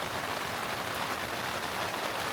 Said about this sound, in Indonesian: di luar tuh lagi hujan ya. Kedengaran banget